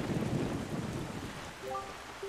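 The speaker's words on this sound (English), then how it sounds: "this place suffers under dark clouds and rain" Steady rain and low rumbling thunder fill a stormy island scene in The Legend of Zelda: The Wind Waker HD, a continuous dense wash with a faint distant rumble and no talking.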